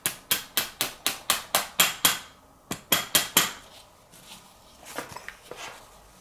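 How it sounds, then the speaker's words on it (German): A pin tapped into the grip of a VFC Umarex Glock 34 airsoft pistol: about nine quick, sharp, close taps in a steady rhythm, a short pause, three more firm taps, then a few fainter clicks. "Und jetzt den breiteren Bolzen hier ansetzen und wieder einklopfen."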